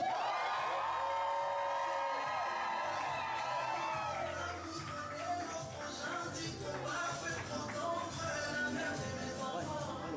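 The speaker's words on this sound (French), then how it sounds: "Ceux qui sont plus contents, poussez les cris de joie." Wedding guests at a civil marriage ceremony cheer and cry out with joy, a loud continuous crowd roar of whoops and shouts with music-like tones running steadily throughout.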